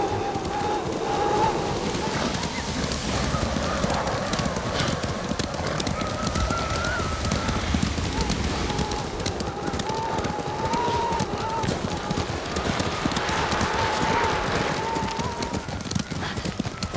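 Horses gallop across open ground in Ghost of Tsushima, a dense, continuous rumble of hooves with an occasional whinny, steady and fairly loud, wind in the background, and voices talking over parts of it.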